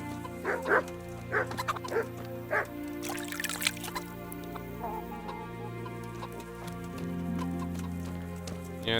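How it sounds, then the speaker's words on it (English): A dog in the video game Kingdom Come: Deliverance barks several times in quick bursts near the start, moderately close, over ambient village background sound with faint clucking. "Yeah, the dog doesn't like us."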